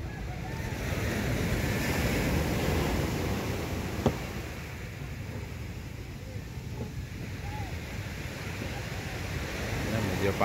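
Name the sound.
sea waves and wind at sea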